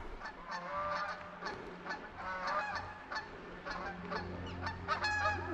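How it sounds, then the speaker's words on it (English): A flock of geese honks overhead along a rock-climbing trail at Smith Rock, the repeated nasal calls overlapping loudly and continuously with no talk. "geese everywhere."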